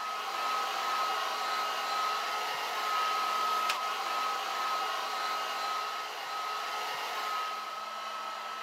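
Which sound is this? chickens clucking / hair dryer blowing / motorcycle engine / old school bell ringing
hair dryer blowing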